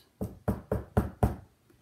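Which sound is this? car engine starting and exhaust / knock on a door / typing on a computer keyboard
knock on a door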